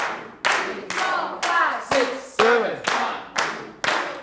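Hands clapping in a steady pulse in a percussion class, with nine sharp, close claps spaced about half a second apart and brief vocal sounds between some of them.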